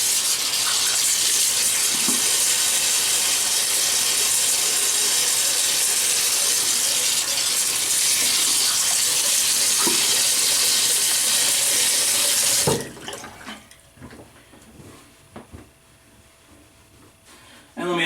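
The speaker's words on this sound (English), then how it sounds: "So let me wet the face." Tap water runs loudly and steadily into a sink for about thirteen seconds while a man wets his face before shaving, then cuts off, leaving faint splashes and handling noises.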